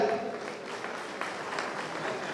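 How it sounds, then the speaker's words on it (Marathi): Scattered clapping from a crowd at a temple ceremony, moderately loud at first and thinning out, with faint voices in the background. "या देणगीदारांसाठी आपण जोरदार टाळ्या वाजवूया।"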